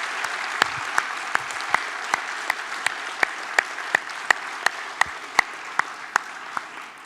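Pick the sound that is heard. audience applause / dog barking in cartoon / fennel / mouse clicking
audience applause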